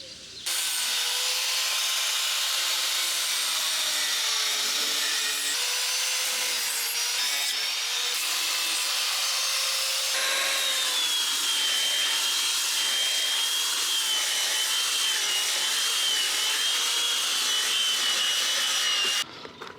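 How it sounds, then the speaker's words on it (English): A wooden skeg on a 1975 catamaran is sanded in one long, continuous gritty rasp that holds at a fairly even loudness for nearly twenty seconds, close up and with no voices. "we have a skeg which is kind of sanded"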